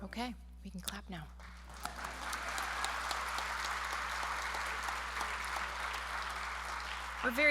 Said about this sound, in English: Okay, we can clap now.